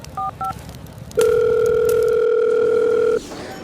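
A telephone tone in a 3D animated comedy: two short beeps, then a loud steady dial tone holding for about two seconds before cutting off.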